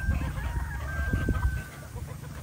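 Chickens clucking nearby, several soft overlapping clucks in a short burst with a faint background hum.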